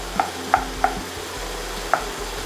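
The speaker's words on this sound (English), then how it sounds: "I'm gonna be chopping up some onions and pickles" Onions and pickles being chopped into tiny dice on a cutting board, four sharp knife taps close up, three in quick succession and then one after a pause, over quiet room noise.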